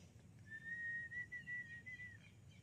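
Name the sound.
person whistling to call the wind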